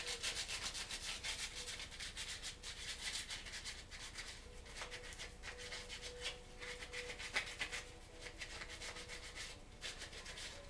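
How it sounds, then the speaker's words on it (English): Worn, crumbling old sandpaper rubbed by hand over a bleached antler, a steady dry scratching that runs continuously with uneven, rhythmic strokes, close and fairly quiet, with no voices. "This sandpaper, the old sandpaper, is not that good because it's falling apart."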